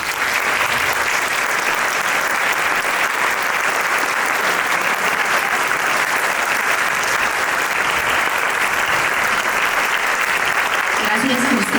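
A large audience applauds steadily and loudly at a live music and poetry performance event, a dense wash of clapping that holds without a break throughout.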